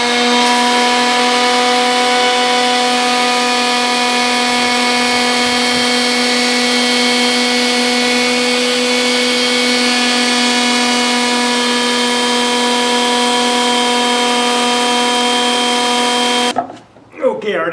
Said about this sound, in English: So next thing is to sand it.